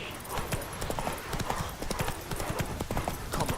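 Geralt's horse Roach clip-clops at a quick steady gallop in The Witcher 3, with dense, rhythmic hoofbeats and a faint whinny throughout and no talk.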